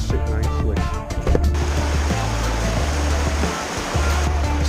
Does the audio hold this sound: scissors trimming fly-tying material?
no